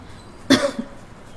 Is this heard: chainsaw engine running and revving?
no